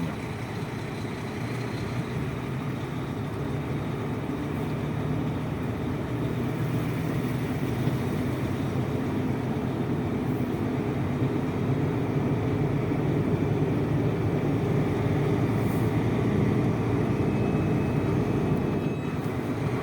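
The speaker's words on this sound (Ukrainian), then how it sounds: "Зараз завожу машину і поїхали розвантажуватися" A truck engine runs steadily, a loud, continuous low rumble and drone heard close from inside the cab for the whole stretch, with no talking.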